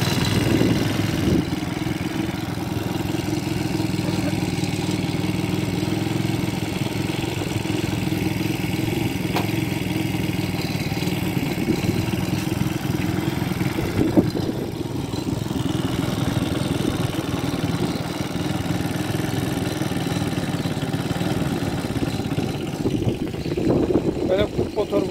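A Cub-type motorcycle engine idles steadily nearby, a continuous low rumble holding an even level throughout, with a voice speaking over it.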